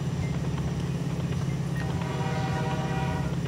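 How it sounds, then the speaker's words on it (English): A steam train whistle from the railway game Mashinky sounds over a loud, steady rolling rumble of the moving train, with a tonal whistle emerging in the second half and no talking. "Yeah, that's a whistle, I know."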